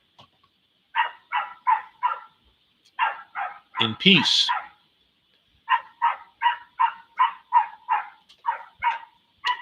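A dog barks repeatedly outside in quick rhythmic bursts of three to eight, moderately loud and carrying, with a man's speech breaking in briefly between the volleys.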